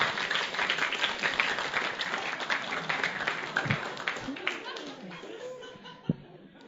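An audience claps in a dense burst that fades over a few seconds, mixed with light chuckles and a speaker talking.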